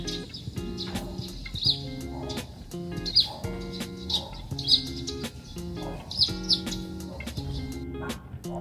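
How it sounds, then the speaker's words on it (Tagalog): Birds chirp and tweet around a home terrace in the morning, with bright repeated calls and short trills coming from several directions, some near and some farther off, over a quiet background. "nakaka-relax pati yung mga huni ng ibon dito sa may terrace namin"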